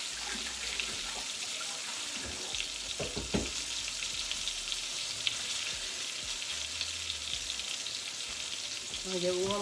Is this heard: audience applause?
no